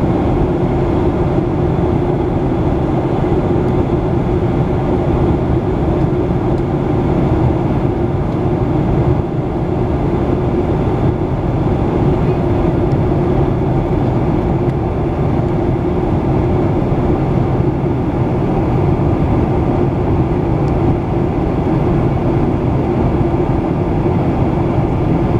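Constant loud, broadband roar inside a Flair Air airliner cabin on a night flight from Calgary to Vancouver, a steady unbroken rumble with no voices.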